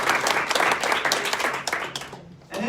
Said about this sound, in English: Now, a round of applause for just you guys.